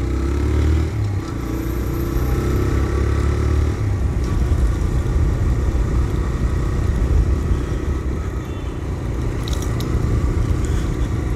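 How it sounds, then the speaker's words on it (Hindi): A motorcycle rides along a road, its engine giving a steady, continuous drone close to the microphone, with wind rushing throughout and no talking. "मैं बाइक लेकर निकल चुका हूँ मोटो ब्लॉगिंग स्टार्ट करने के लिए"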